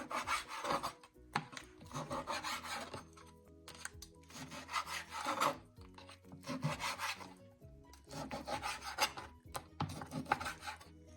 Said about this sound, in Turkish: Makaslarında istediğimiz uzunlukta bu şekilde kesebiliyoruz